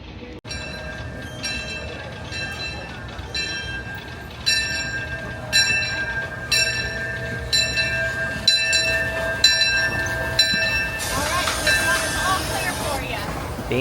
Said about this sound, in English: sounds like the train is just now pulling up